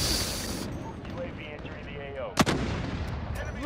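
Call of Duty Modern Warfare multiplayer gunfire, with a single loud, sharp shot standing out over a dense din of rumbling battlefield noise and distant firing.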